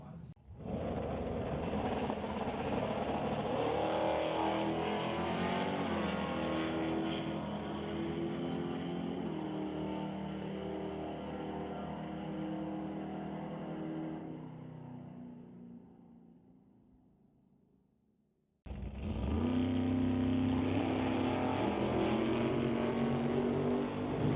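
Drag racing cars, including a roadster, roar down the quarter-mile at Mission Raceway Park: a loud sustained engine howl that slowly fades away to near silence, then a sudden blast of engine roar cuts back in.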